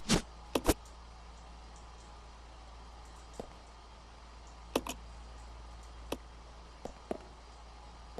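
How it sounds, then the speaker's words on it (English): A typewriter in the save room of the Resident Evil 0 video game gives a handful of sharp, separate clacks spread unevenly over a quiet hum, with two quick strikes at the start and scattered keys later. "we gotta use this typewriter, man"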